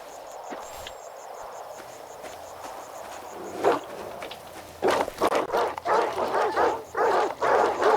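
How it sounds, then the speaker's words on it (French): Several dogs bark in bursts in the video game Stalker 2, starting with a lone bark and then a close, loud cluster of barks and yips over the last few seconds, with footsteps and faint game ambience underneath. "Oh, il y a beaucoup de chiens."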